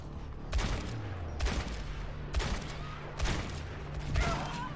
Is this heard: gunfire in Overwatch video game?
yes